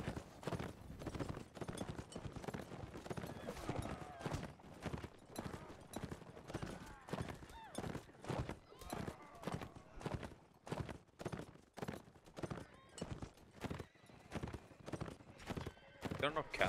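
Horse hooves pound steadily in a rapid, driving gallop during a video game battle, with people talking over the hoofbeats and faint whinnies now and then.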